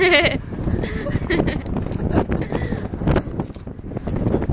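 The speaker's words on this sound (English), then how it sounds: "The goat. Gotta have a little goat action." A goat on a cattle ranch bleats near the start, a short wavering call, followed by wind noise against the microphone and someone talking casually over the outdoor background.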